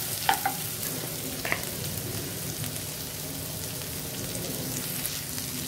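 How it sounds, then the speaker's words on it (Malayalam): Red and green capsicum with carrot and a pinch of salt sautéing in a pan, a soft, steady sizzle running throughout with a couple of faint clinks near the start. "നല്ലോണം ഒന്ന് വഴറ്റിയെടുക്കണം."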